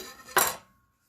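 A knife skims the top off a freshly baked cream puff: one short, crisp scrape with a faint metallic edge, heard alone and fading quickly into silence.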